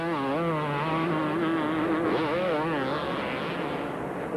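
Supercross motorcycles racing at the 2003 AMA Supercross in Minneapolis, with Carmichael hitting the triple jump; high, whining engine notes rise and fall steadily over crowd wash, loud and continuous throughout.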